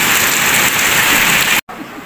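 Heavy winter rain pours down close by in a loud, steady hiss, cutting out abruptly for a moment near the end before the downpour resumes.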